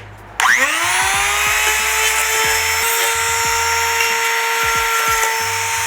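Electric grinder cleaning up a cut edge in recycled plastic for a birdhouse, spinning up after a brief pause into a steady high whine that holds loud and continuous to the end, with faint low knocks underneath.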